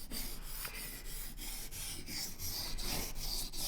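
A bushcraft knife blade strokes repeatedly across a sharpening stone, a quiet close-up rasping scrape in a regular back-and-forth rhythm, with no talking.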